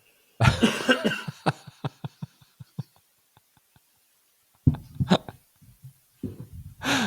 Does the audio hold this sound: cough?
yes